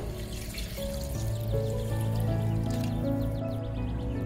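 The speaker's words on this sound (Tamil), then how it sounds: "இப்போ இதில் கொஞ்சம் தண்ணி ஊற்றிடுறேன்" Water trickles and splashes continuously into a cooking pan, a steady pouring sound over a low hum of background noise.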